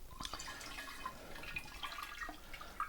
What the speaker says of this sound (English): as you put the milk in, it just naturally blends it all together